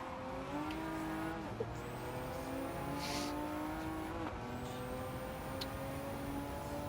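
A race car engine in Gran Turismo 7 drones loud and steady, its pitch climbing under throttle through gear changes, with faint tire squeal and no talk.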